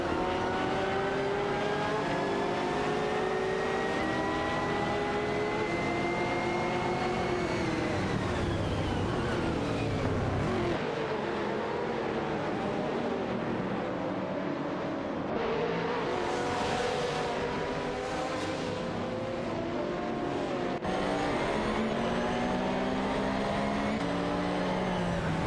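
Race car engines drone and rev in an AI racing video game, several cars overlapping in a continuous loud whine with rising and falling pitch as they accelerate, shift and pass, with no talking.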